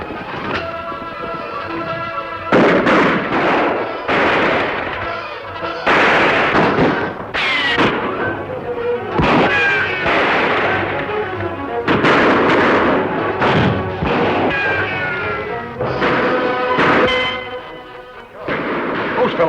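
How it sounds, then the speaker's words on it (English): Gunshots in a radio drama shootout, a rapid volley of sharp loud cracks and booming reports fired back and forth, some trailing echoes, with busy background noise and no clear talking between shots. "Whoever they are, they're shooting at us."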